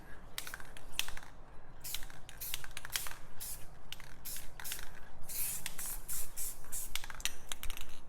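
Short hissing bursts from a Rust-Oleum spray paint can laying black outline streaks over blue paint, several quick sprays separated by brief pauses, close and fairly quiet, with no talk.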